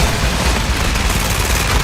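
A Tec9 firing in Call of Duty Warzone 2.0, a loud dense burst of rapid gunfire that runs continuously through the clip, heard with no talk over it.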